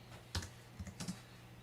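A few quick keystrokes on a computer keyboard as a value is typed into a graphics editor, faint and close, with a louder tap near the start and a short cluster of clicks near the end.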